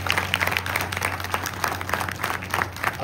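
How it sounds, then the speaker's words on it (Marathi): Audience applause with rhythmic clapping from a crowd, steady and moderately loud for about three seconds, celebrating during a Marathi stage program about forts. "एकदा जोरदार टाळ्या"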